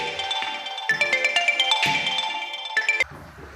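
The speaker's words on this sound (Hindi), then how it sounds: "जिस फ़ोन से रिकॉर्डिंग कर रहे हैं उसमें कॉल आ गया था।" A phone rings with an incoming call on the device recording a class 10 maths lesson, a close, bright ringtone melody of repeating tones that plays for about three seconds with no speech.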